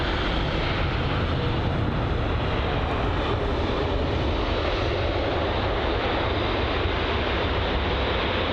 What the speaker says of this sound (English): next up is going to be the China Southern Airlines 787 Dreamliner